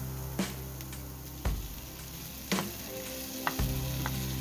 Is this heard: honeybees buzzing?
no